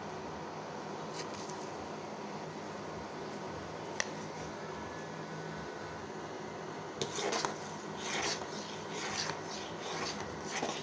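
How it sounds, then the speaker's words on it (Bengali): A spoon stirs milky tea with sugar as it heats in a pot, giving soft scraping and clinking against the metal, quiet at first and then rougher, quicker strokes near the end. "এবার চার পাত্তি দেওয়ার পর আমি ভালো করে চাটা নাড়তেছি।"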